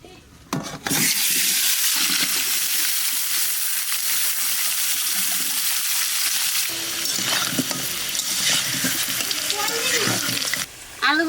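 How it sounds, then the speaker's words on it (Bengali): Potatoes fry in mustard oil in a kitchen pan, a steady close sizzle with stirring scrapes that runs almost unbroken for several seconds and briefly drops away near the end. "আলু ভাজা হয়ে গেছে, আলু নামাইতে ইঁচড় ভাজবো"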